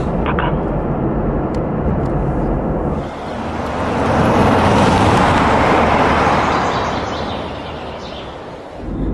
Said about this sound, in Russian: Тут форсированный движок, ласточка, а не машина.